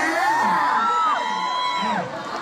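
Crowd at a mall launch party cheering and whooping, loud and close, with a sustained rising and falling yell carrying over the mass of voices.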